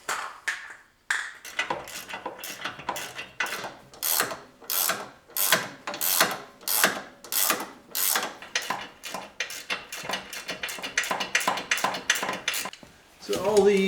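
A ratchet wrench snaps off repeated bursts of clicking, close and steady, while tightening the steering tie rod ends on a Jeep YJ/LJ steering setup. Quieter rattles of tools and parts fill the brief pauses between strokes.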